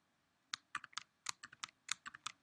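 Keys on a computer keyboard are tapped in a quick irregular run of about a dozen crisp, close clicks, with no voice over them.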